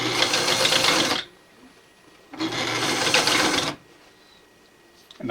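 A sewing machine stitches through burlap camouflage material in two steady, close bursts of about a second each, separated by a quiet pause, with another run just starting at the end.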